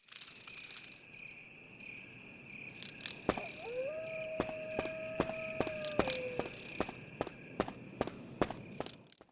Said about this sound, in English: the crickets whenever I was outside.